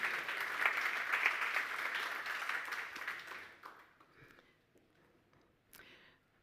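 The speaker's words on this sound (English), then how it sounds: "Applause for yourself, please." Audience applause at a tech conference's centre stage, a dense steady clapping for about three seconds that then thins out to a few scattered claps and quiet room noise.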